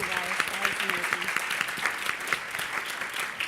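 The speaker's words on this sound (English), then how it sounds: "let's give a big round of applause to our panel for joining us today" An audience at a meeting on stopping trafficking applauds a panel with moderately quiet, sustained clapping, while a person talks over it at the start.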